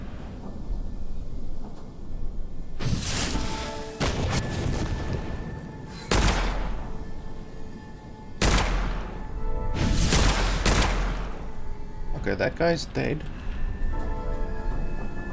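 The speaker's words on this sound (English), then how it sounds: "Okay, some kind of an explosion just happened." Several heavy explosions boom in the Witchfire first-person shooter game, loud broadband blasts arriving in irregular bursts amid combat noise, with someone talking between them.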